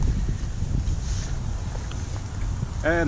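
Gusty wind rumbles loudly against the microphone throughout on a wet, windy riverbank of the River Ribble, with a brief voice appearing right at the end.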